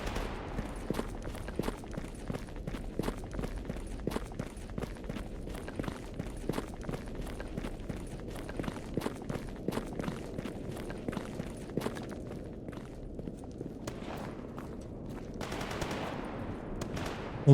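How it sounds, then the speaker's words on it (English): Rattling bursts of machine-gun and rifle fire from a nearby firefight in Stalker Gamma, with many quick, moderately distant shots in steady rhythm and sporadic single cracks, thinning out near the end. "Although there is a firefight nearby."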